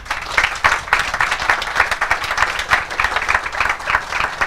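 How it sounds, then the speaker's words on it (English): An audience at a press conference for a sailing race applauds, dense and continuous clapping from many people sustained for several seconds at a fairly loud level. "One final round of applause, please."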